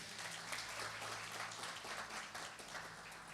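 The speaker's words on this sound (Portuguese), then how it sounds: "Vamos aplaudir ao Senhor" A church congregation applauds at a worship service, steady dense clapping that fills the whole stretch at moderate, fairly even loudness, with a low hum underneath and no clear talk.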